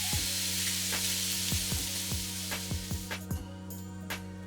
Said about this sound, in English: I let it sit, break it up a little bit, and cover it up and let it cook